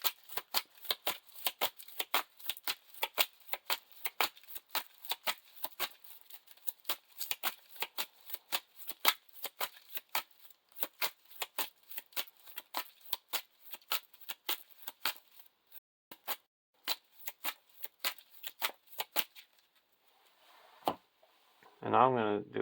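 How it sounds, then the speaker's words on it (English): Lord of the Rings LCG playing cards being shuffled by hand, a rapid run of sharp riffling card flicks close up, pausing briefly before a final burst, with a voice speaking at the very end. "Now we're shuffling each copy of the Giant Barrow."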